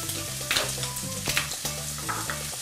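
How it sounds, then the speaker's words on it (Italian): Italian sausage sizzles and fries in a pan with garlic, a steady crackling sizzle punctuated by a few stirring scrapes, close and moderately loud with no talk. "Una volta rosolata per bene la salsiccia, andiamo a schiacciare"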